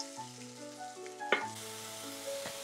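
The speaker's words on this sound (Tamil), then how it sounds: "நான் ஒரு வெங்காயத்தை அரிஞ்சு வச்சுருக்கேன், பெரிய வெங்காயம், அதை போட்டு வதக்கிக்கலாம்." Chopped large onion sautéing in a pan for sambar, a steady close sizzle with a few sharp stirring clinks and no talk.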